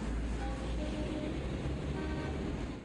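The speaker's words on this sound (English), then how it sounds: "I guess we just get traffic noises there" Steady city traffic noise with a car horn tooting, a background sound from the strategy game Strategic Command: World War I, a constant low roadway hum with brief honks on top.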